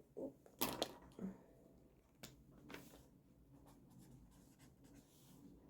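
Pen strokes scratching on paper in a few quick bursts near the start, then softer, sparse writing sounds continuing quietly to the end.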